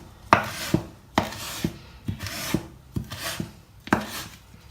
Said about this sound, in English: So this is just fresh coriander leaves, and I'm also just chopping it roughly.